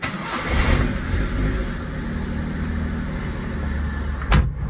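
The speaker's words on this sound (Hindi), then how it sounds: "So it is the cold start time of a 1997 Suzuki Mehran." A 1997 Suzuki Mehran engine cold starts, cranking briefly then catching into a rough, steady idle, loud and close, with a sharp knock near the end.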